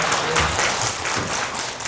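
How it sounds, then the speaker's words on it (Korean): An audience at a Korean literary talk show event breaks into a steady wash of applause, dense and continuous clapping at moderate volume with no talking over it. "네, 박수 부탁드립니다."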